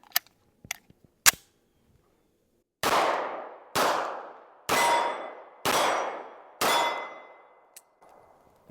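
Springfield Armory XD Mod 3 pistol firing defensive rounds outdoors: a few sharp cracks, then five loud evenly spaced shots about a second apart, each with a ringing tail and metallic clinks between.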